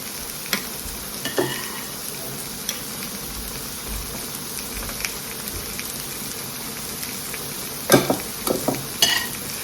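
A hot pot bubbles and sizzles in a steady loud seething wash, with occasional utensil clinks and brief stirring knocks, including a louder cluster near the end.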